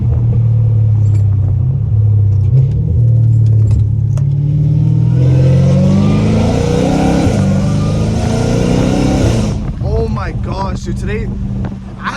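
A catless Dodge Hellcat Redeye exhaust rumbles loud and close with deep revving swells through the street, a person exclaiming over it throughout.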